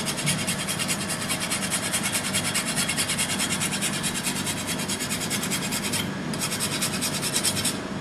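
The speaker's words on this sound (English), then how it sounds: "Now a little bit of nutmeg, you can grate it fresh." Fresh whole nutmeg scraped against a grater, a continuous close rasping scratch with rapid, even back-and-forth strokes and a brief lull near the end.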